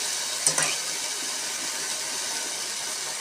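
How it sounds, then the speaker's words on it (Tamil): Masala for kola urundai kuzhambu, a meatball curry, fries in a pan as a steady, even hiss of sizzling, with a single brief scrape of stirring near the start. "இந்த மசாலா நல்லா பச்சை வாசனை போகிற வரைக்கும் நல்லா கிண்டிக்கோங்க"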